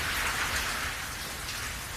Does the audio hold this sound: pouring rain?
yes